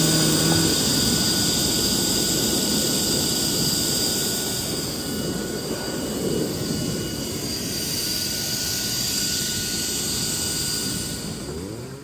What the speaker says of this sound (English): Check out my new blower.